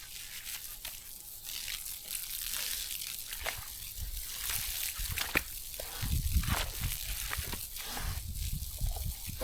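A hot pig wallows in a mud bath on a farm, making wet sloshing, squelching and slapping noises in irregular bursts close by over a hissy background.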